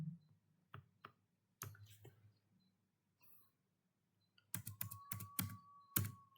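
Clicks of a computer keyboard being typed on, with a sharp enter keystroke, in a quiet room during work in an Excel spreadsheet; sparse taps early, then a quick run of louder keystrokes near the end.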